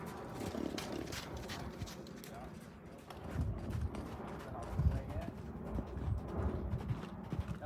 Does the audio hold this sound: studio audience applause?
no